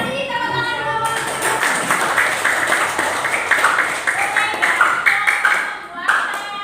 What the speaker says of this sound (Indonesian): Bisa kasih tepuk tangan dulu.